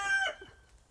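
A rooster on a small backyard flock lets out a short, close crowing call that fades quickly into quiet, with the hens nearby.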